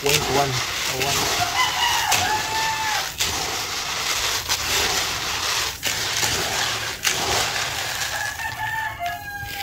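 Chickens cluck and call in a noisy flock, with a rooster crowing partway through and a voice talking over the steady barnyard din.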